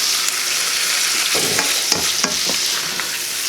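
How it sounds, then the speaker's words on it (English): Green beans with garlic butter, salt and pepper are stirred in a hot pan. A loud, close, continuous sizzle runs throughout, with several scraping utensil strokes in the middle and no speech. "We'll just get this stirred."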